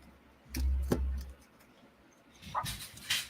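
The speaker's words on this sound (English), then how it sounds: "hear dogs outside losing their shit." Dogs barking outside, heard at a distance as a couple of brief, moderately loud bursts with quieter gaps between, no talking.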